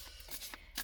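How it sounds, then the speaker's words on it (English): A tarot card deck being shuffled close by, a brief series of soft riffling, papery flutters with no talking. "Alright, so I'm gonna shuffle, and as I shuffle, take a minute to take some deep breaths"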